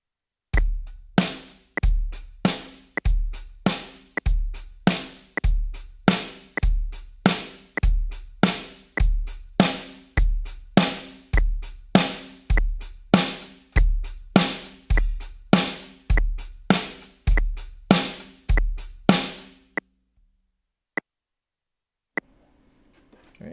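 Drum kit beat at a slow 50 BPM with eighth notes on the hands, a steady run of evenly spaced hits over a pulsing low kick, played loud and close, stopping near the end with a few isolated taps.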